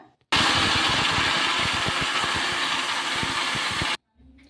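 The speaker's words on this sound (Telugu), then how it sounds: "మూత పెట్టేసుకొని మిక్సీ పట్టేసుకుందాం ఇంకా" A mixer grinder whirs loudly and steadily for about three and a half seconds, grinding a tomato mixture with water added under a closed lid, switching on abruptly and cutting off sharply, with nothing else heard.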